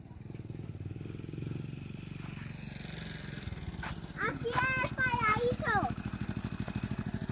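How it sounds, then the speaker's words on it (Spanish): A motorcycle engine putters steadily and grows louder, while a person speaks briefly over it. "Viene moto."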